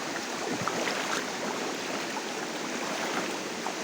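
Cold water flows along a jungle stream near a cliff and waterfall, producing a soft, continuous rushing and gurgling wash at a moderate distance, steady throughout without voices.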